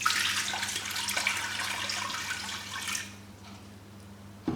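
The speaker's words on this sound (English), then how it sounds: "So I'm just going to add a little bit of this water." Water pours from a container into an Instant Pot, a steady splashing rush that stops after about three seconds, leaving a faint low hum.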